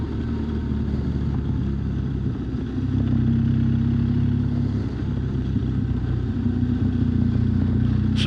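A motorcycle rides steadily along narrow agricultural back roads in Ireland, its engine droning close and constant, with a slight swell partway through and no talk.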